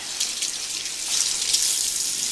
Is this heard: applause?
no